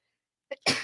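A single sudden sneeze from a person during a casual podcast conversation: a short intake, then a sharp explosive burst, close to the microphone.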